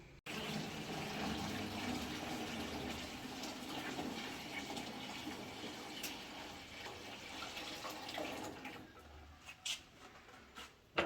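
Water runs steadily into a bucket set under a sink in a house still under construction, a continuous close splashing rush that fades near the end with a few small knocks.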